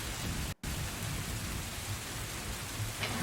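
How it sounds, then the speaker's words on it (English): Steady storm rain with low rumbling thunder beneath it, a dense continuous wash of noise with a brief drop to silence near the start. "You hear the rumbling of thunder."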